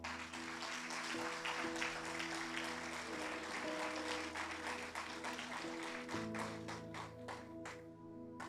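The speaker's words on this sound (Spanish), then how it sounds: "Den un aplauso al Señor" A church congregation applauds for the Lord, with continuous crowd clapping mixed with music and voices that fades slightly toward the end.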